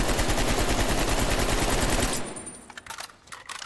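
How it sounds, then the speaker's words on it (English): A long sustained burst of automatic rifle fire in Black Ops Cold War rattles rapidly for about two seconds, loud and close, then gives way to a few scattered clicks and thuds. "I'm 15 meters away and I'm going to try and control this recoil."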